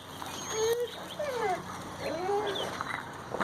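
A female dog named Sugar Bear gives several soft, high whimpers and whines in short rising and falling bursts, fairly close, over faint outdoor background noise.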